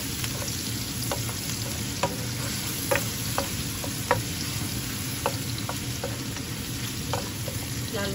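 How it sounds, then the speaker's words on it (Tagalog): Ginger browning in a hot pan gives a steady, close sizzle and frying hiss. Scattered light clicks and scrapes of stirring cut through it, and nobody speaks. "Pag-brownin ko ang luya."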